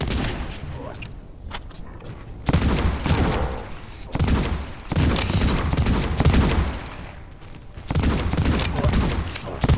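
Dense, loud gunfire from the video game Cultic, with rapid overlapping shots, booms and mechanical clatter in sustained bursts broken by brief lulls.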